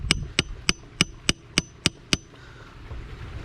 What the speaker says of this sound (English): So I'm gonna put it on top of my vise here and just kind of tap it down.